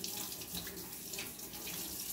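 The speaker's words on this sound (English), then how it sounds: "Turn the water off" A bathroom sink tap runs steadily while hands are rinsed under it, a close, even splashing rush of water with no voices.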